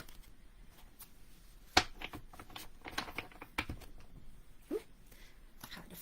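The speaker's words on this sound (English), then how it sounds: "first we're going to shuffle our cards" Tarot cards being shuffled by hand, giving a run of soft, close riffling snaps and flicks with a few sharper clicks, no talking over it.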